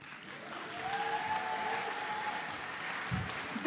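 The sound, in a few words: audience applause at a music awards ceremony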